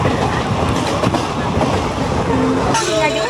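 A local passenger train running through a tunnel in Tripura, its steady loud rumble and clattering wheels filling the whole stretch, with a brief squeal of wheels near the end.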